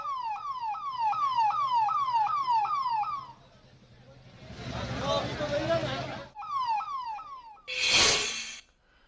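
An ambulance siren wails in a repeated rising-falling sweep on a highway blocked by a farmers' protest in Pilibhit, loud and close, broken by bursts of crowd noise and a sharp horn blast.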